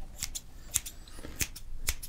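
Scissors snip in quick, crisp, close-up cuts, several separate snips spaced unevenly over a couple of seconds, played quietly as an ASMR trigger with no talking.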